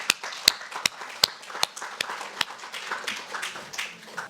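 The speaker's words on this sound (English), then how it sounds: "Big round of applause for all of them." A small audience at the Vivekananda Festival 2024 claps for student participants: scattered, uneven individual claps with sharp peaks that thin into lighter patter.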